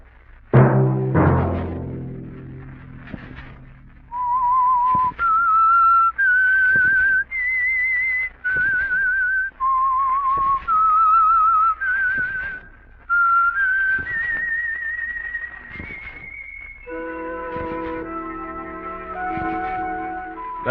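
A lone melodic whistle plays the theme of The Whistler radio mystery program, clear sustained notes stepping up and down in a slow tune with soft footsteps beneath, ending in a fuller orchestral chord.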